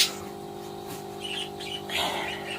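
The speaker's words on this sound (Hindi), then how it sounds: "और चिड़ियों की आवाज़ हमारे तो सुनाई दे रहा होगा" Small birds chirp and tweet faintly in the distance, a few scattered calls over a quiet background with a steady low hum.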